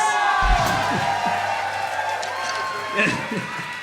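A concert hall audience cheers and whoops for a big band's baritone saxophone player, a continuous crowd roar with scattered shouts while a voice talks over it.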